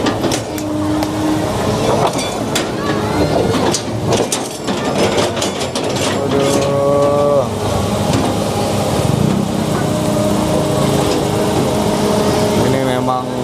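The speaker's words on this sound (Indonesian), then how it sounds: "Sampai mesinnya beko ini ya kayak mau mati." Diesel engine of an excavator lifting heavy steel bridge parts at a riverside bridge site, labouring and droning loudly throughout with metallic clanks and knocks, while people talk over it.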